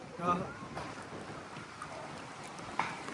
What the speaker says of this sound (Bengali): অলরেডি বৃষ্টি চলে আসছে